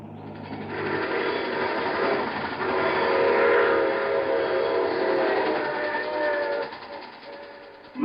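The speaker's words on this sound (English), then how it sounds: "I take this same train every week at this time." A train sound effect in an old-time radio horror drama rumbles and clatters steadily close by, with a horn-like tone and ratcheting mechanical rhythm, fading slightly near the end.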